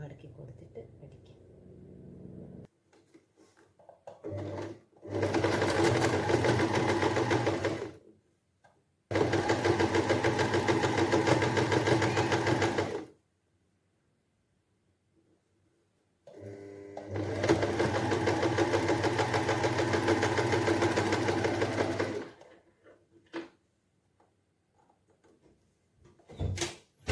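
A sewing machine stitching the folded edge of old churidar fabric, running in three long bursts of steady close whirring with quiet pauses and handling sounds between them.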